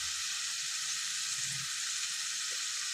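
Ginger frying in hot oil in a pan, giving a loud, steady, dense hiss of sizzling that holds unchanged for a few seconds, close up and with no speech.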